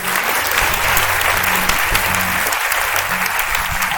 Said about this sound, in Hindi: तालियां बजाएं आप